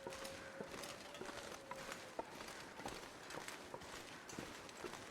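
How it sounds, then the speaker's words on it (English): A deer walks through the snowy wilderness of The Long Dark survival game, its soft hoof steps tapping in an irregular, fairly quiet rhythm over faint ambient wind. "That's a deer."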